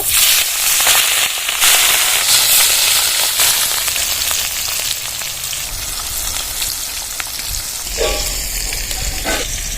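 Rohu fish pieces frying in hot oil, a loud, close, continuous sizzle with sharp crackling pops scattered throughout and a couple of spatula scrapes near the end.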